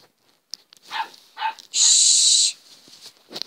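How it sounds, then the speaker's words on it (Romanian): A small house dog gives two short, high yips in a quiet room, followed by a loud, steady hissing burst lasting under a second, then near silence. "Și Rubis, nu mai lătra ca prostul."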